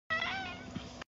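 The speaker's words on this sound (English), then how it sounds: "This is a cat." A cat meows once at close range, a single drawn-out, clear call that holds steady for about a second, heard on its own with no talking.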